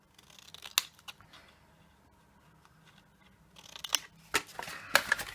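Scissors cut card for an Easter gift box, producing sparse sharp snips at first, then a quicker cluster of crisp close cuts and rustles toward the end.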